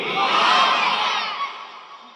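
A large crowd at an Islamic waz sermon gathering in Kuakata roars a takbir response together, a loud sustained mass shout that swells and then fades, with no other voices over it.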